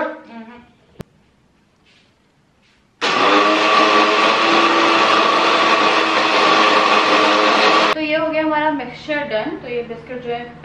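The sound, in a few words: mixer grinder grinding biscuits and sugar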